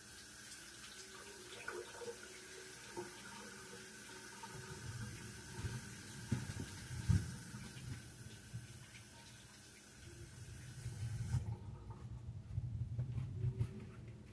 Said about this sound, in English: So I'm going to have to wash my hands again now